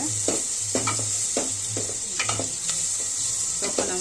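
Onion fries in a pan for lentil dal, a steady bright sizzle running throughout while a utensil stirs in repeated scraping strokes, close and clear with no talk.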